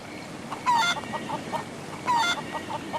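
Chickens cluck in the video game Haunted Chapter 2: The Senate, two louder bursts of squawking clucks with softer scattered clucks between them, fairly close and clear with no talk.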